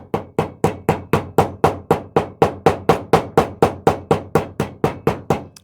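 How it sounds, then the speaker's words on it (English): Sharp hammer blows strike a drill battery's metal tab laid flat to flatten it, about twenty even, rapid, loud impacts at a steady rhythm, close up with no talking. "I'm going to take it, lay it flat, and I'm going to take my hammer"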